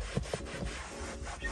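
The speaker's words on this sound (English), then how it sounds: "scrub it a little bit." Scrubbing an interior surface during car detailing: a short run of close, soft brush-on-fabric rubbing strokes in an uneven rhythm, moderately quiet, with no voices.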